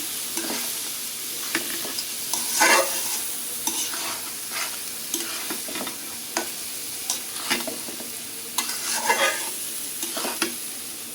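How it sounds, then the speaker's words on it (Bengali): Rice and three kinds of lentils fry in a pot for khichuri, a steady sizzle under repeated scraping and rustling strokes of a spoon stirring the grains, close and fairly loud. "চালটা ভালো করে ভাজা নিচ্ছে"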